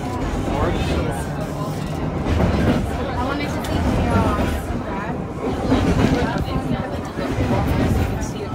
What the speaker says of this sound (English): First time riding in a train in Canada.